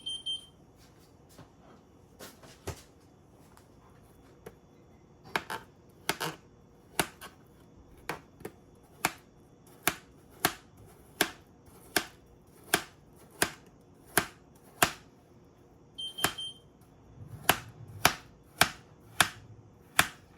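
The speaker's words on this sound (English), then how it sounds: "So I just slice it into about that thick of chunks." Ripe frozen banana sliced into chunks on a cutting board, about fifteen crisp knife strikes landing in a fairly steady rhythm, close and distinct against a quiet kitchen with no talking.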